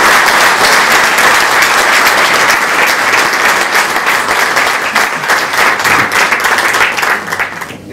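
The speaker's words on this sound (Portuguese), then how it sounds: "uma salva de palmas para ele" Steady applause from a dinner audience at a Paris gathering of a bacalhau academy, dense overlapping claps filling the room at full loudness for several seconds before easing slightly at the end.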